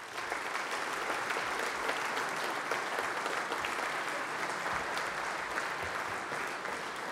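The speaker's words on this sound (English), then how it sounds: "can you just give a round of applause to all the young people who are coming into the industry" An awards ceremony audience at the BIFA Awards gives a sustained, dense round of applause for young people entering the industry, steady and even throughout with no voices over it.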